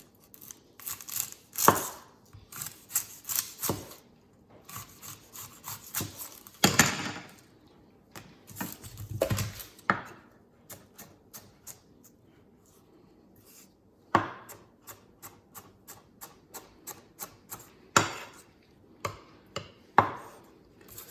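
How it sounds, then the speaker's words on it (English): A freshly sharpened chef's knife slices through tough onion skin on a cutting board, a steady series of crisp chopping strokes at close range with brief pauses in between. "Onion skin can be tough to cut with a dull knife, but it's cutting onion skin."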